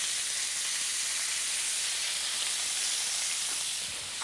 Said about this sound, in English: I'll just fry these in batches.